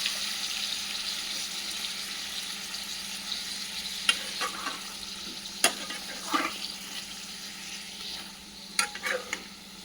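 Chicken frying in a kadai, a soft continuous sizzle with a few sharp clinks and scrapes of stirring near the end.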